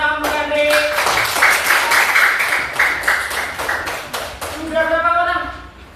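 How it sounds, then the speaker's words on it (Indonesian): A classroom of students clapping for a classmate, a burst of many hands applauding close by that swells and then fades, with a teacher talking before and after. "Tepuk tangan untuk Andri."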